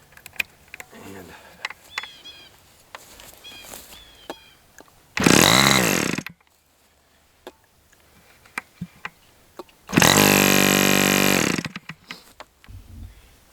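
Chainsaw running on Swamp Juice fuel, revved in two loud sustained high-RPM bursts separated by quieter idle and small knocks.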